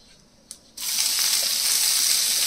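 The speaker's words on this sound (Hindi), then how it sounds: "अब हम डालेंगे इसमें ये प्याज जो हमने बारीक चॉप कर लिया है।" Finely chopped onions hit a hot pan with whole spices, a sudden loud sizzle bursting in after a short quiet moment and then holding strong and steady.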